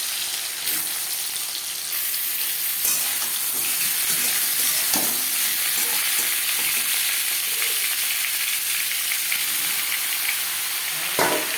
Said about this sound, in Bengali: সবার প্রথমে আমি আলু ও সোয়াবিন ভেজে নেব